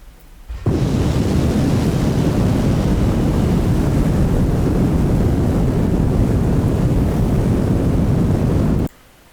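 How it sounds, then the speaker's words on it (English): Rocket launch in the space game Kerbal Space Program 2, a loud, continuous broadband engine roar that starts abruptly, holds steady for about eight seconds, then cuts off, with no voices. "Now, it's time to launch our rocket."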